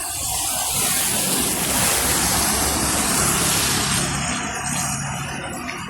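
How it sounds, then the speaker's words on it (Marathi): Steady, loud rushing water churns continuously through a street gutter without pause, a dense wash of flowing sound close by. "बघा गटर कसा वाहतो"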